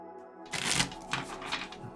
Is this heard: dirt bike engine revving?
no